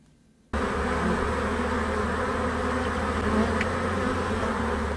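Honeybees swarming around rural beehives make a dense, continuous buzzing that starts abruptly and stays loud and close with no talking.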